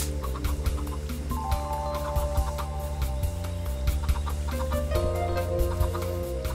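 Chickens cluck in the Minecraft video game, short blocky calls repeating over a steady droning game background with layered tones, moderately loud throughout with no talking.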